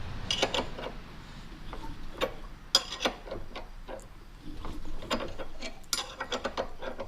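Pneumatic impact wrench working on a VW Type 1 crankshaft during disassembly, with a series of sharp rattling hammer bursts and clicks at uneven intervals, fairly close over a low background rumble.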